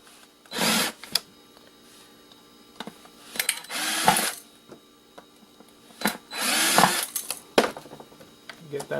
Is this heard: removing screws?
yes